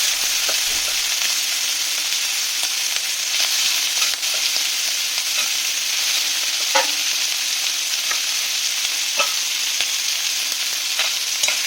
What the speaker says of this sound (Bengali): চিংড়ি মাছগুলোকে আমি হালকা করে একটু ভেজে নেব, বেশি ভাজবো না, হালকা করে ভেজে নেব।